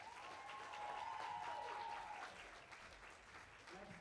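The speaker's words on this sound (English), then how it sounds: "let's give a round of applause to him and Jocelyn." Faint, distant applause fills a middle school talent show hall, a thin whistle rising over the steady clapping before it slowly thins out.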